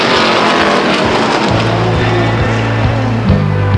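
Race car engines roar at Stockton 99 Speedway during a heat race, a loud continuous drone with steady low tones that shift pitch as cars run past and one spins, close and alone without talk.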